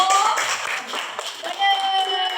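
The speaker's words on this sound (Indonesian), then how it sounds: "beri aplaus untuk kelompok 1" Classroom applause for a student group during a teaching practice lesson, a short burst of clapping over a noisy room with voices talking throughout.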